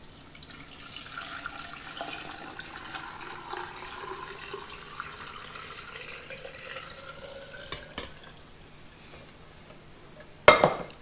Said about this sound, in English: So all I do is I pour this right over the cucumbers.